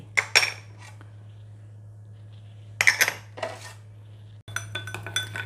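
Sauce ingredients, including chopped garlic, are mixed in a bowl, heard as a few close sharp clinks and scrapes of a utensil against the bowl in separate short bursts with quiet gaps between them.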